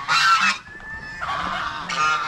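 Domestic geese kept on a small farm give loud, brassy honks close by, two strong bursts separated by quieter calls and a brief lull.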